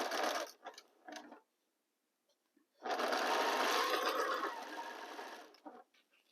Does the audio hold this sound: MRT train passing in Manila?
no